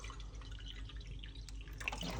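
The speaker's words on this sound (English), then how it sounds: "Now, we're just gonna put some water." Bottled water poured into a glass, a quiet, steady trickle and splash with faint drips, close by and low in level, with no voices.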